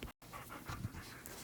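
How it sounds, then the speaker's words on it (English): A dog pants heavily and rapidly in the background while its owner teaches, a steady run of close breathy huffs with no talking. "If you hear heavy breathing in the background, it is my dog trying to get me to play fetch."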